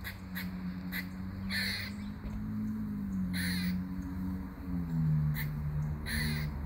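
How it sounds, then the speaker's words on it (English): Crows cawing in repeated harsh bursts, several calls spaced across the clip, fairly close and clear over a steady low background hum with no talk. "Sounds like a bird to me."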